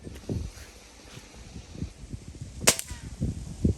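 BB gun shots fired outdoors at a target, with a sharp crack near the middle and another snap near the end amid wind, rustling and movement noise.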